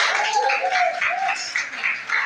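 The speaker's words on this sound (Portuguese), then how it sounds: "Dá uma salva de palmas para Jesus." A church congregation claps together in praise during a worship service, a dense, steady wash of applause lasting throughout with faint tonal sounds beneath it.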